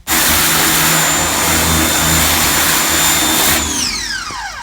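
A small Ryobi 1600 psi electric pressure washer runs with a steady, loud motor drone and whine, then spins down near the end with a falling pitch.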